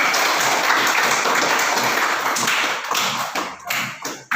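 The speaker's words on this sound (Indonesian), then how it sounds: "kita beri tepuk tangan untuk Ince." Applause from a classroom of students, a dense patter of claps that grows ragged and thins into scattered taps toward the end.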